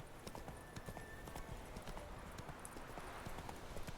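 Geralt's horse Roach gallops in The Witcher 3: Wild Hunt, a quick run of soft hoofbeats set against a steady wash of outdoor ambience, fairly faint and without speech over it.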